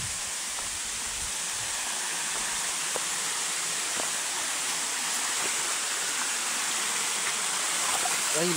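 Cold stream water rushes steadily and loudly nearby, a dense continuous hiss of flowing water with faint splashes throughout.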